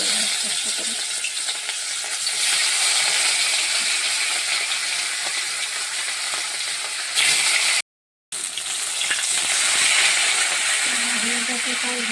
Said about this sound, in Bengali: তেলটা কড়া হয়ে গেছে ধোঁয়া উঠছে এবার মাছগুলো ফেলে